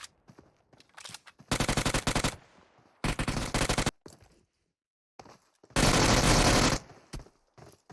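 Automatic gunfire sprays in a battle royale video game, with several loud sustained bursts separated by short pauses and scattered single shots between them.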